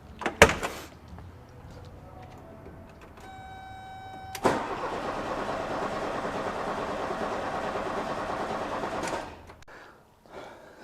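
The fuel-injected engine of a 1976 VW Beetle cranks steadily for several seconds, a loud rhythmic churning that stops abruptly near the end. A tonal whine and a couple of sharp clicks come before it, and there is no talking.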